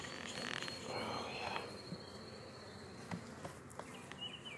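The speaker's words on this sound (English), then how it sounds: "there are some busy little bees" Honeybees in a backyard hive, two weeks after install, make a soft, steady buzz close by, with a few brief clicks and knocks over the hum and no talking.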